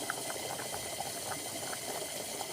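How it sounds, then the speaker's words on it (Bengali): Egg curry gravy bubbles steadily in a covered pan, a continuous soft simmering hiss dotted with small pops, close and even throughout with no talking. "ঢাকনা দিয়ে দিবেন ঝোল কষানোর জন্য"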